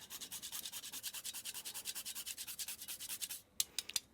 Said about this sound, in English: I'm going to grate in some nutmeg.